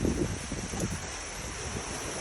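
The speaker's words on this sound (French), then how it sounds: "J'espère que vous n'entendez pas trop le vent et la pluie" Wind gusts outdoors with rain, a steady broadband roar buffeting the microphone, loud and close, with no speech.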